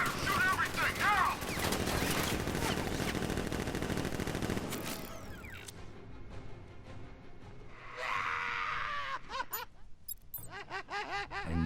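Bursts of automatic gunfire from militia guards in Batman: Arkham Knight, loud and rapid at first, then thinning into scattered shots with gaps of quiet.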